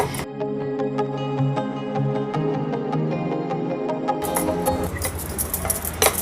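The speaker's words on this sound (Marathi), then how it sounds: "आता व्यवस्थित हे आपण बेसनचं पीठ आहे ना फेटून फेटून घ्यायचं आहे" Gram flour (besan) batter is whisked briskly by hand in a bowl, making a quick, even train of light tapping strokes up close that grows wetter and busier toward the end.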